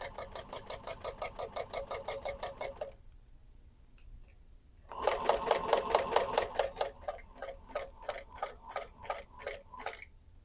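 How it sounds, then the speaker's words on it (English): Sewing machine top stitching along the long edge of a clutch bag, a rapid even mechanical chatter that stops for about two seconds, then resumes louder and slows into separate stitches at the end, no talk. "So I'm just going to top stitch down that long edge."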